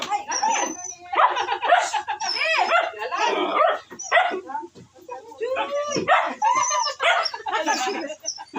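A puppy barks, yips and whimpers up close in a busy, continuous stream of high cries, with people talking over and between the sounds.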